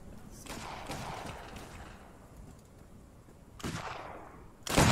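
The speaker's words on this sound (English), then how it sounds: "What are they shooting at?" Musket volleys in Arma 3, set in a Napoleonic-era battle, with a burst of broadband gunfire near the start, another crack past the middle and a loud close shot at the end.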